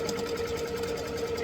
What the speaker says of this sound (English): Now we're going to stitch this down.